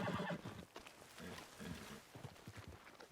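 A horse in the video game Red Dead Redemption 2 gives a short neigh at the start, followed by faint, rough, muffled game noise throughout, quiet overall.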